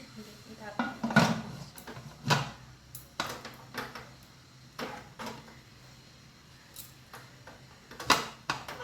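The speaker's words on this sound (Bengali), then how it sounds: "এবারে আমি ঢাকনাটা দিয়ে দেবো।" Metal lid set onto a cooking pot: several sharp clanks and taps of metal on metal at irregular intervals, with softer kitchen clatter in between.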